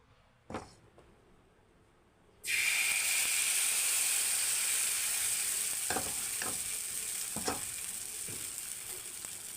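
Sweet ragi flour dosa batter hits a hot oiled pan after a quiet moment and a single knock, bursting into a loud, steady sizzle that continues with a few scraping spreads of the batter.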